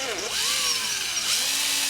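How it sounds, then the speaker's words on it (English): A power drill bites through a foam model airplane wing at an angle, its motor whining up and down in pitch as it spins up, slows and speeds again, steady and close with no talking. "So I want to drill through from the top and follow that angle"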